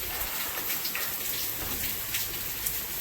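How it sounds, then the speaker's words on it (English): Heavy rain falls steadily in the small Mayan village of Buenavista, Mexico, as Hurricane Delta arrives, a dense hiss of drops on surfaces with no wind, continuous and close throughout. "We've got a lot of rain, no wind yet."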